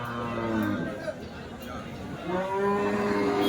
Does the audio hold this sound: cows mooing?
yes